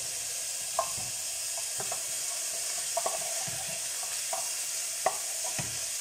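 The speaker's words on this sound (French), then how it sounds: "Je vais mélanger." A pan of sautéed pork, Brussels sprouts, onions and lardons is stirred, a soft steady sizzle running beneath a handful of sharp utensil scrapes and clicks against the pan.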